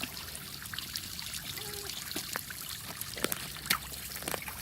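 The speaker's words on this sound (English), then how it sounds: "Got the splash pad set up because it's hot." Water trickles and spatters from a splash pad set up on a hot day near a peacock barn, a soft continuous dribble broken by a few sharper splashes, with faint background sounds.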